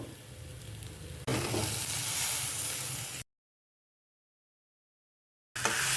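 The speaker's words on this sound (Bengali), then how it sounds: "মশলা কষানো হয়ে গেছে এবারে ভেজে রাখা ফুলকপি আর আলু দিয়ে দেবো" Fried cauliflower and potatoes drop into a pan of sizzling spice paste, and the quiet frying jumps to a loud, close, bright hiss that cuts off abruptly into silence, then returns just as loud near the end.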